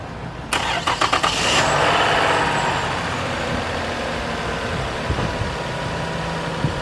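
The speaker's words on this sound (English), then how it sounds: "let's crank up the car" A Toyota V6 engine with a newly replaced timing belt cranks briefly with a rapid starter whir, catches, and settles into a steady, loud idle close by.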